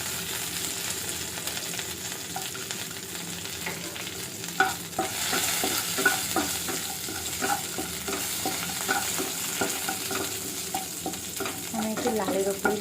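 Whole chillies fry in hot oil with a dense, continuous sizzle and crackle, close and fairly loud, with occasional stirring scrapes and no voices.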